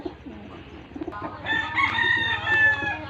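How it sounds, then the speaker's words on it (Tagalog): Chickens cluck softly, then a rooster crows loudly nearby with a long drawn-out call, other birds chirping faintly behind. "Ayan naman yung ating mga alagang manok."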